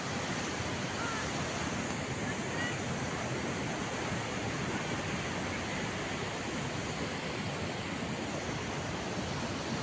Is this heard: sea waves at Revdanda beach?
yes